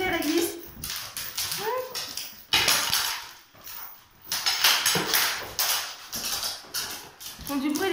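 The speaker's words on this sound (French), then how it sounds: "Font du bruit, les chiens." Dogs whimpering and letting out short barks indoors at home, with bursts of noise coming and going over several seconds while a person talks alongside them.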